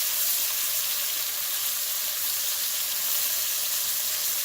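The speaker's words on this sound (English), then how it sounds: "Now you're getting that real sizzle in there." Meat dredged in flour sizzles and spits in a hot pan at a spring camporee meal prep, a dense steady crackling hiss close by, with no voices.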